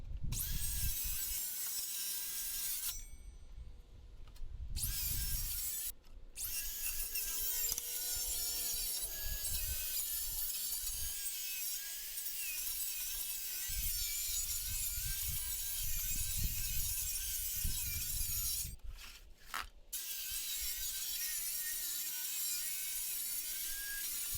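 Pallet wood slats are pried and cut with hand tools in a workshop, giving repeated rough rasping and scraping strokes with ratchety clicks, close and moderately loud, separated by short quiet breaks and no talking.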